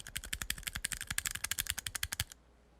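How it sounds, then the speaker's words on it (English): Quick bursts of typing on a non-mechanical keyboard with a light, switch-like click, around twenty close keystrokes in an uneven rhythm before stopping abruptly into near silence. "It like sounds nothing like a mechanical keyboard, but it functions like one."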